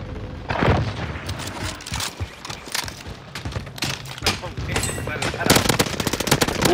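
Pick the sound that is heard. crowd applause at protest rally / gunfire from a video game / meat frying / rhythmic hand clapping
gunfire from a video game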